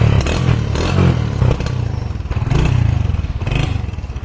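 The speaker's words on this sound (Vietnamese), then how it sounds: "Một chiếc xe Win 100 đời 1996 anh em nhá." A 1996 Honda Win 100 motorcycle's small engine runs close by, rough and rattly with uneven revving surges and some clattering, loud throughout with no talking.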